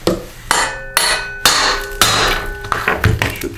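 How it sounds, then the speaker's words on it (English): A tool pries the flywheel off a Briggs & Stratton 125K02-0243 engine with a series of loud, sharp metallic knocks and clanks that ring briefly, about five strong hits followed by quicker, lighter taps. "Stick something underneath this flywheel and pry up."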